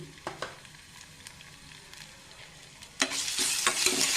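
Cumin and mustard seeds frying in oil, starting as faint scattered crackles and pops, then swelling suddenly into a louder, denser sizzle near the end.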